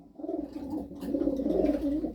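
Pigeons coo inside a loft, a steady run of soft, throaty, overlapping calls that continues close and clear without pause.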